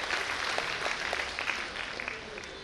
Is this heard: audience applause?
yes